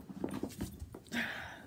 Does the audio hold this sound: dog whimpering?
yes